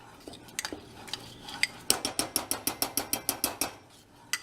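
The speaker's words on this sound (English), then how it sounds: "Keep stirring. It's important to stir because this stuff scorches very easily" A spoon stirs a thick brigadeiro chocolate mixture in a pot, scraping the pot in a quick, steady rhythm of about a dozen clinks and scrapes after a few scattered knocks.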